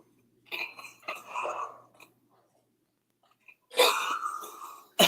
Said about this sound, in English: Yeah, I bet it's one of the jury members coughing.